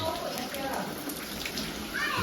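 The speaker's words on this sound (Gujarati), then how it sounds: "આમ જો કેવો વરસાદ મસ્ત મજાનો ચાલુ છે" Rain patters steadily nearby with some dripping, and a few faint voices rise and fall underneath.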